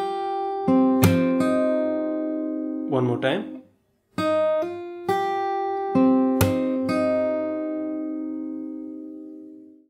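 Fingerstyle acoustic guitar picks the melody of a song, with ringing chords and single notes in a steady phrase. A brief spoken phrase cuts in partway through, and a short pause follows before the playing resumes.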